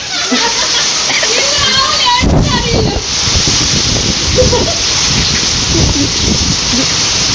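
Heavy rain pours down steadily with constant splashing, and people talk over the downpour.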